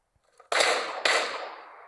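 Two sharp gunshots fire in PUBG Mobile's aim training map, each a loud crack about half a second apart, with a long reverberant tail that fades slowly after the second shot.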